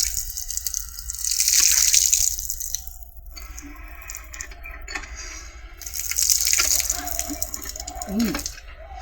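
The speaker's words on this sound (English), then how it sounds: "See water is running." Water gushing and splashing from a newly built water well, in two loud bursts of rushing flow separated by a quieter stretch with dripping, close by.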